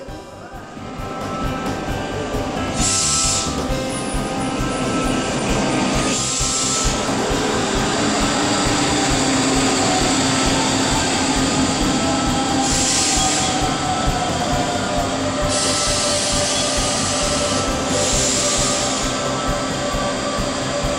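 A regional express train on the line between Heilbronn and Crailsheim runs steadily at close range, with a continuous rolling rumble, rail noise and recurring high wheel squeals throughout.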